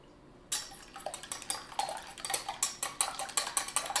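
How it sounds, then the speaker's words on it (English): A whisk beats eggs in a bowl with quick, rhythmic metallic clinks, close and steady after a quiet start, roughly several strokes per second. "So you want to keep whisking until you really get it mixed up."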